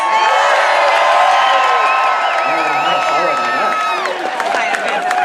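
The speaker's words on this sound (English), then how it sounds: "An applause for the goddess." Cheering crowd at a pro-democracy street demonstration, loud sustained whoops, shouts and scattered clapping from many voices, with a few higher voices rising and falling near the middle.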